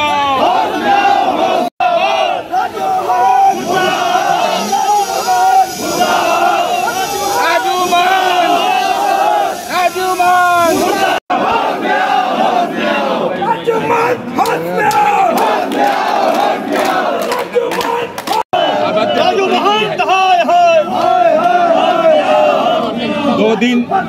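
A large protest crowd chants slogans in loud unison against Mahant Raju Das, a continuous roar of many shouting voices in rhythmic bursts, close and dense for the whole stretch.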